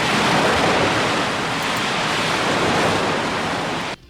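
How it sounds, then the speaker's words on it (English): Water bursts from a ruptured storage tank on a rooftop in a visual novel sound effect: a loud, steady rushing roar that holds for about four seconds, then cuts off abruptly. "a large amount of water burst out from it"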